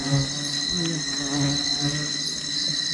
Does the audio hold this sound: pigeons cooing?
no